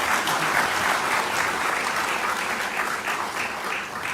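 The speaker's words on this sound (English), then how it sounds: "Ladies and gentlemen, another round of applause for Dance in Africa." A crowd applauds a dance troupe at the CBU 56th AGA opening ceremony, a dense, even wash of clapping from many hands that holds steady for about four seconds with no speech.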